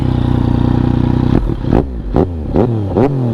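Close, loud Yamaha MT-09 847cc motorcycle engine holds a steady idle, then is revved in about five sharp throttle blips, each rising and falling back in quick succession.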